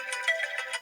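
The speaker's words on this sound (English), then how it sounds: "Sorry, that was my phone." A mobile phone ringtone plays alone in short repeated bright pulses, moderately loud, with no talking over it.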